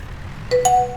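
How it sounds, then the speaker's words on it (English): A phone text message notification, a quick two-tone ding that sounds bright and close, alone in a quiet room. "that's my phone."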